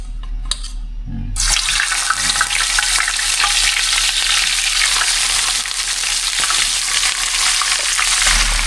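Kitang fish frying in a pan of hot oil, a loud, continuous close sizzle that bursts in after a quiet start and holds steady to the end.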